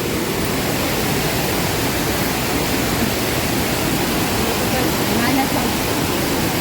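Satsada waterfall near Mahad in Raigad, a steady, loud broadband roar of falling water that fills the whole clip without pause.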